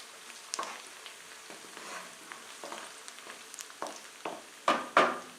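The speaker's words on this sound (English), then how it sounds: "We got a good sizzle going." Food sizzles and crackles steadily in a pan, with scattered pops and a few louder spatters near the end; no talking.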